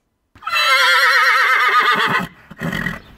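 A horse neighs loudly and close by in one long, wavering whinny, followed by a short snort.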